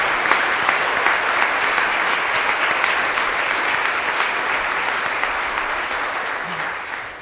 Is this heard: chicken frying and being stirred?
no